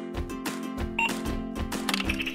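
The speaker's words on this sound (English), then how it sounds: "My cash register talks." A toy cash register from a pretend-and-play teaching playset, working with real coins: repeated short mechanical clacks and electronic chirps and beeps, close and fairly loud, with no talking.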